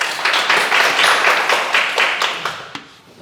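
An audience claps and applauds at a Q&A talk, a dense burst of hand clapping that lasts a few seconds and then thins out and fades.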